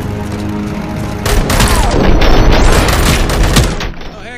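Sustained automatic gunfire from the RoboCop Rogue City video game on PS5, a loud dense burst of rapid shots and booms that swells midway and then tails off.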